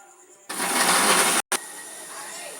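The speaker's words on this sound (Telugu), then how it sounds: "కొత్తిమీర, చిన్నులపాయలు, టమాటా, చింతపండు మొత్తం ఒకసారి వేసుకొని మిక్సీ పట్టుకుందాం" A mixer grinder whirs loudly as it grinds coriander, small onions, tomato, tamarind and curry leaves into chutney, starting abruptly, cutting out for a split second, then running on more softly.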